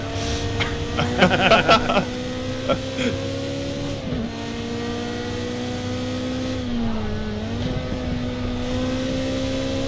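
A steady Ferrari engine drone in the racing game Project CARS 2 rises and falls in pitch as it revs and shifts, with brief chatter near the start.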